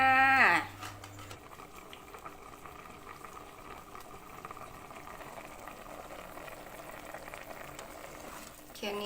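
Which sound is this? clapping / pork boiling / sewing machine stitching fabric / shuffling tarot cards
pork boiling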